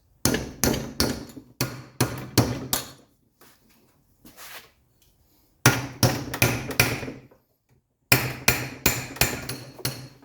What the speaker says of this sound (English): using our same hammer, we have a chisel here